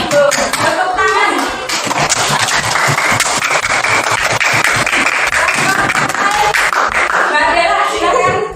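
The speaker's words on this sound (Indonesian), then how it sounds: "Tepuk tangan" A room full of people at a school coaching session applauding together, with dense, steady clapping that stays loud throughout, mixed with a few faint voices.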